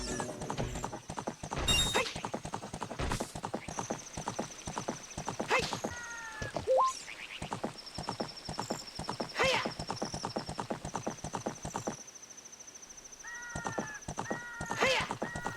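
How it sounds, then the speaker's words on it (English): Epona the horse in Zelda: Ocarina of Time galloping across Hyrule Field, with rapid, steady hoofbeats that are close and loud, broken by a few whinnies and game effects, and a voice talking over the top. "So we'll hop on Epona and go ahead and ride out to Hyrule Field again"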